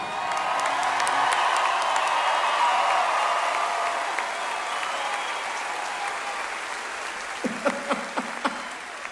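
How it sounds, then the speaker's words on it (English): A full audience at the Grand Ole Opry applauds loudly and steadily during a performance, the clapping thinning toward the end into a few scattered sharp claps. "They're applauding for you at the Opry."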